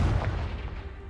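Confringo explosion spell in a video game, a deep booming blast that rolls out and decays over about a second, loud and alone.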